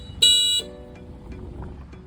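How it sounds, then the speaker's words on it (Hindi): A 2023 electric scooter's single horn gives one short, bright beep nearby, over a quiet background hum. "सिंगल हॉर्न आपको यहाँ पर दिया जाता है इस तरीके से।"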